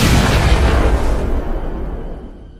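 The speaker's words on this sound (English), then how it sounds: "water sprouted from the river in a massive explosion as the loud bang was heard throughout" A massive explosion in a river sends up a loud, deep boom that rolls out into a long, fading rumble, with no voices over it.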